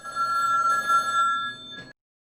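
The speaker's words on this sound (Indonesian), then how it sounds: "Vigo sendiri sempat menelepon John untuk bernegosiasi." A telephone bell rings in a film scene, a steady metallic trilling ring that fills the clip for almost two seconds and then stops abruptly, leaving silence.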